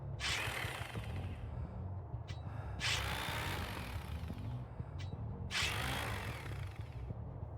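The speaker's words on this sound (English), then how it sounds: "And here is how the Saw sounds like." A buzzing, grinding saw weapon effect from Dead by Daylight sounds in three repeated bursts with ratcheting mechanical rattling underneath, harsh and steady between pulses.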